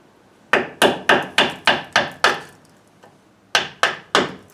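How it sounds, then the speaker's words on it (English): A screwdriver struck with a hammer to turn the brake adjuster on a 2004 GMC Sierra 1500, sharp ringing metallic blows in an even series of seven, a pause, then three more, close and loud. "they just put a screwdriver in and hit it to rotate it"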